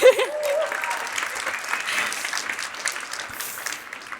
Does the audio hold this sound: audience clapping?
yes